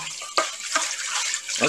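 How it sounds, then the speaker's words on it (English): Kitchen tap water running over a pan being rinsed in a sink, a faint splashing hiss with a few louder gushes as the pan moves under the stream. "it's called rinsing it out with water"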